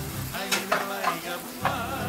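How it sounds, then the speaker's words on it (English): Chopped onion and garlic saute in a hot pan, a steady bright sizzle with a few soft spatula scrapes and stirring clicks, close and continuous with no talking. "My onion and my garlic. I'm just sauteing them."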